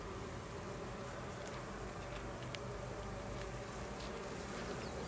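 Honeybees hum steadily around open hive frames they are cleaning, a quiet continuous buzz with no talk.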